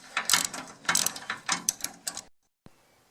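A ratchet wrench clicks rapidly in several short bursts while loosening a bolt on a wood stove bypass door, close and crisp, then stops with one final faint tap.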